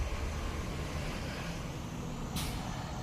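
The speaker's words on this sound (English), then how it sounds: "Waiting for the garbage truck to go by there." Garbage truck driving by on a residential street, a steady broad engine rumble with a sharp hiss of air brakes near the end.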